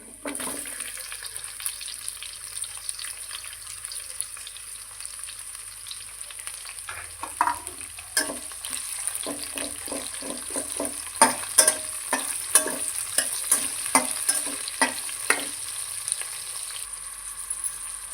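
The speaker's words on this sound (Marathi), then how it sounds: "आता ह्याच्यात आपण कांदा फ्राय करून घेऊ" Onion frying with spices in a pan for a green peas pulao, a steady close sizzle with repeated clinks and scrapes of stirring that grow busier toward the end, no talking.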